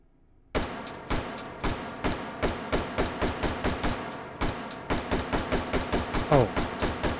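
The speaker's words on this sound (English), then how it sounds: "let's try out this new gun here" A new gun firing in the Hot Dogs, Horseshoes & Hand Grenades VR game, sounding as a steady rapid string of about two dozen crisp, loud shots in quick rhythmic bursts, with no talking.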